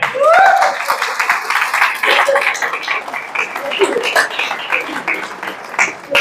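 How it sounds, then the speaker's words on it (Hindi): Seminar audience gives loud, enthusiastic applause, a dense burst of clapping sustained for several seconds, with a speaker's voice cutting in at the start and again over the tail. "जोरदार तालियां"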